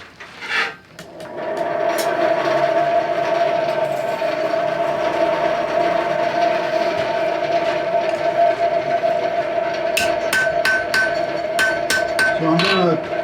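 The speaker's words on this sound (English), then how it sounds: "on the horn of the anvil, the round part of the anvil, we'll forge the actual hook" A blacksmith forges a hook on the round horn of an anvil. Several sharp metallic strikes ring out near the end over a steady, droning background hum, with no voices.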